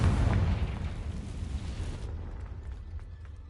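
A Confringo blast spell explodes in Hogwarts Legacy, a heavy low boom that swells at once and then rumbles and fades over a few seconds, with no voices over it.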